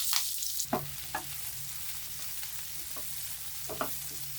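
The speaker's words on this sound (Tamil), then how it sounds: "வெங்காயம் நல்லா எண்ணெயில் வதங்குதோ" Sliced onions fry in oil with a bunch of fresh curry leaves for poori masala, a steady close sizzle with occasional soft stirring scrapes and clicks.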